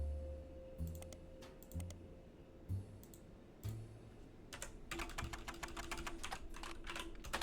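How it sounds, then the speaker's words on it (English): Typing on a computer keyboard: a few isolated key clicks at first, then a quick run of rapid tapping, close and fairly quiet over a faint hum. "I'm typing in next gens"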